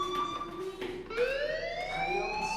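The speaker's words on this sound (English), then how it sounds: "Hey, do you hear that fire alarm?" An in-game fire alarm rings in Life Is Strange as a faint, siren-like electronic tone. It holds steady, then sweeps upward partway through and keeps sounding.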